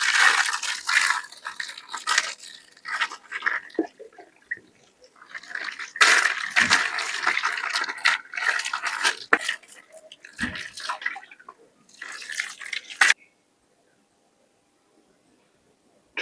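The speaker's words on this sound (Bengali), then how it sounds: "তাহলে 2 মিনিট রেখে বা জল দিয়ে ধুয়ে নিচ্ছ?" Water splashes and drips as shampoo is rinsed out of hair, in an irregular, close run of pouring and dripping that stops abruptly near the end and leaves silence.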